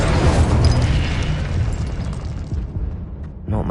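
Spell blasts from Confringo and Incendio in Hogwarts Legacy: a loud, sustained roaring burst of fiery explosion that rumbles for a few seconds, fades, and then flares again with a short whooshing hit at the end.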